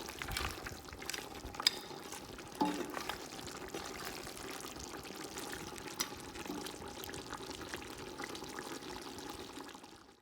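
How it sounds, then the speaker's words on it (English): Mutton bhuna masala (goat curry) being stirred in a pot with onions releasing water, giving quiet sizzling and scraping with a few louder clinks and knocks, steady and close with no talking. "Give it a nice stir."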